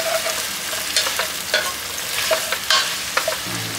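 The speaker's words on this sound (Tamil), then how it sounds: "அப்புறம் நல்லா கிண்டிடுங்க. மிக்ஸ்." Mutton dhalca cooks in ghee in a pot, a close, steady sizzle broken by several distinct spoon scrapes and clacks as it is stirred, with no voices present.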